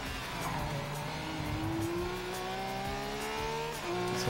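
Race car in Project Cars 3 on a Côte d'Azur coastal route, engine note climbing steadily in pitch as it accelerates through the gears, loud and continuous with a brief shift near the end.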